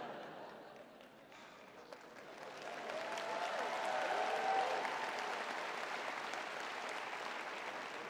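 Audience applause at a comedy show in a theater, clapping building from a quiet start into a steady, fairly distant roar that holds to the end with no talk.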